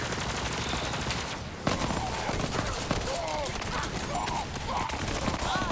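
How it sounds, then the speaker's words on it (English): Gunfire in Borderlands 3 at Mayhem 11, with dense, continuous rapid shots and blasts layered over game noise, with a sharp bang partway through and a voice speaking over it. "He's shooting me with a launcher"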